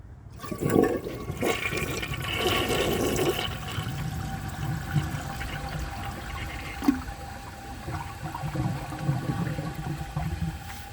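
A 1981 Briggs Conserver concealed-jet toilet flushes with a dish towel in the bowl: a loud, steady rush of swirling water that keeps churning and trickling throughout.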